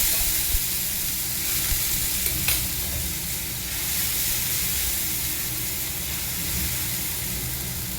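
Spice paste for a spicy taro curry sizzles loudly and steadily in a pan as water is splashed in, with a brief burst of hissing steam partway through and no talking.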